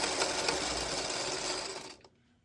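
Home sewing machine used for quilting runs steadily at close range for about two seconds, then stops abruptly, leaving near silence.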